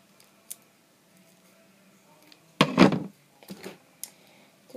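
A squishy toy being cut with scissors on a quiet tabletop: a few sparse, close snips and crunchy cutting sounds, with one fuller burst of cutting in the middle and small clicks around it.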